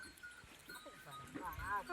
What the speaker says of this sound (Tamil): இந்த ஆடு எப்படி ஏறி வருது பாருங்க.